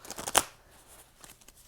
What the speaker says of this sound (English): Another shuffle here.